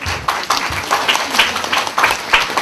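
An audience claps steadily to welcome guests onto the stage at a talk event for a documentary DVD release, a close, dense patter of hands with uneven peaks.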